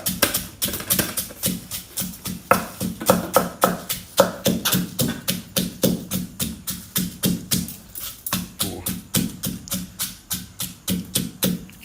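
Papaya salad with chili and garlic being pounded in a mortar, a long series of rapid, regular thudding strikes at close range with no talk.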